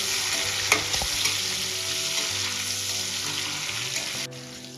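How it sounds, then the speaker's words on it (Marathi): Tomatoes are sautéed in a kadhai, giving a steady, close hissing sizzle that runs evenly throughout, with a scrape of stirring near the start and an abrupt drop at the end. "इथे आपल्याला टोमॅटो छान मेल्ट होईपर्यंत परतून घ्यायचे आहे"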